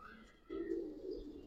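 Pigeons in a loft give a soft, low coo with a faint chirp before it, quiet and close, lasting about a second.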